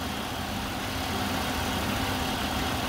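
A 2006 Buick Lucerne CXL's V6 engine idles with a steady, even hum heard close up, with no talking over it.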